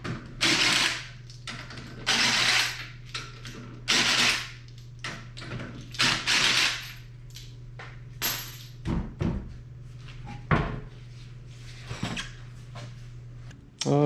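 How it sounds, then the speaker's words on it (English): Ratchet clicks in quick bursts while a wheel is removed from a crashed Porsche 986 Boxster S in a garage, irregular clusters of loud ratcheting with pauses, clunks and a steady low hum underneath. "Time to get this wheel off, get her up in the air,"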